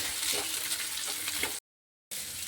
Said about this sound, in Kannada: ಇದು ಸ್ವಲ್ಪ ನಾನು ಫ್ರೈ ಮಾಡಿ ತೊಗೋತೀನಿ